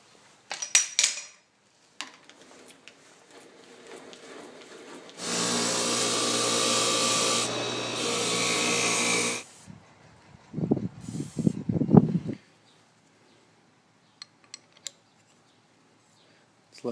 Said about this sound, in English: Just barely able to get my crowfoot wrench on there.